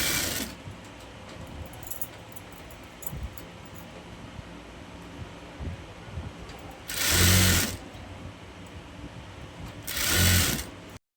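A sewing machine stitches lace onto a child's kaftan, its steady mechanical whir running throughout, with two loud bursts where the machine speeds up briefly.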